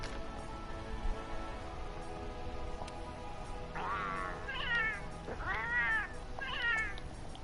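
A cat meows several times in the Monster Hunter World video game, four or five rising, drawn-out calls close by over a faint steady background hum.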